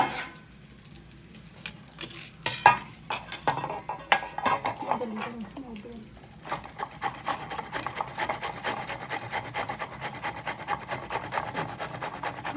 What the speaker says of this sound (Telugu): ఇదిగోండి మామిడికాయ తురుము